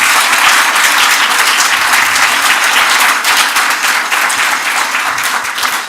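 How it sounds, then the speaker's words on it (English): A church congregation at a Sunday service breaks into sustained, loud applause, a dense wash of many hands clapping that holds steady for about six seconds before easing slightly. "give him a big round of applause because he'll watch it"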